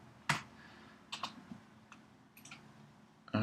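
Fast typing on a computer keyboard, a few sharp bursts of key clicks separated by brief pauses, close and fairly quiet.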